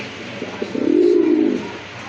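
A pigeon in breeding mood gives a clear, close coo: a few soft stuttering notes building into one longer rolling call, fairly loud, with no talk over it.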